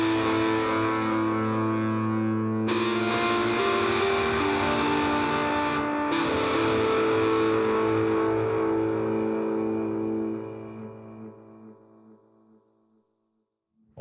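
A sustained synthesizer chord from a BOSS SY-300, gritty with overdrive and washed in echoing delay, shifts pitch twice, then slowly fades into a long reverberant tail.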